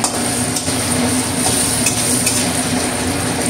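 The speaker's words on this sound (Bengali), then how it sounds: "এবার একটুখানি নাড়িয়ে নেব মশলাটাকে।" A spice paste with a little turmeric and salt sizzles in a pan while it is briefly stirred, making a steady, close frying hiss throughout with faint scraping and no talking.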